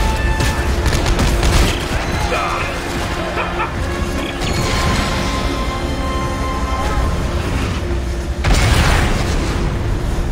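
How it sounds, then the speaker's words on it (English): Heavy explosions and crashing impacts fill a Dead Space 3 co-op battle on a ship, loud and continuous with bursts of debris and mechanical clatter, and a sharp new blast near the end. "Explosions! Explosions everywhere!"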